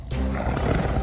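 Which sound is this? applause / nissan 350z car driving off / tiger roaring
tiger roaring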